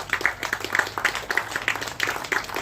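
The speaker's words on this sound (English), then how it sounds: "Please give a round of applause." An audience claps at a community talk in Petaling Jaya, a thin, brief patter of scattered hand claps from a modest crowd, fairly faint and lasting a few seconds.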